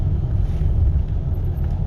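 Heavy traffic on a Karnataka road gives a continuous deep rumble of vehicle engines and tyre noise, close and even throughout, with no voices.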